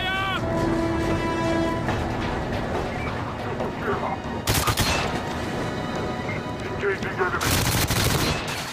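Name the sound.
gunfire in video game GoldenEye 007 (Wii)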